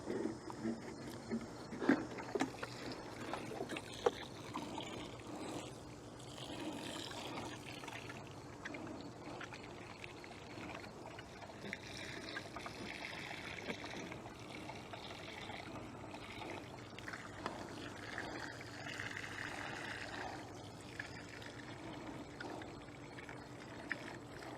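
Water poured from a container onto soil around growing potato plants, a steady splashing and trickling stream that runs continuously and moderately loud, close by, with faint background noise.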